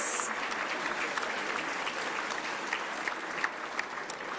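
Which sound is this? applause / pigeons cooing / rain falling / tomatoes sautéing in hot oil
applause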